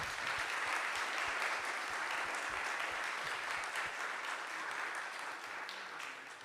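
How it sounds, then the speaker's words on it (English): Conference audience applauding speakers after a session on multi-hazard risk and resilience, a steady, even wash of clapping from a full room that gradually fades. "So if you can give them a round of applause."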